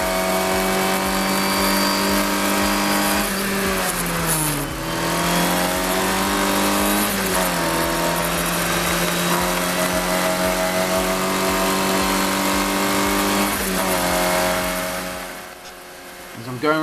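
A Formula Ford race car engine at Snetterton screams under hard acceleration, loud and close from the cockpit, with repeated gear changes and pitch drops through corners before easing off near the end; a voice talks over it.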